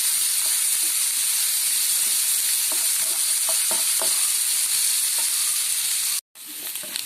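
Ivy gourd egg fry with onion, green chilli and turmeric in a frying pan: a steady loud sizzle under faint scraping stir strokes, cut briefly by a moment of silence near the end.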